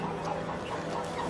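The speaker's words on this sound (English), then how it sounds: "Those are a versatile kind of village chicken." Village chickens, eight-month-old free-range birds weighing 3.5 to 4 kg, cluck softly as a busy flock noise, continuous and close under a dense background hum.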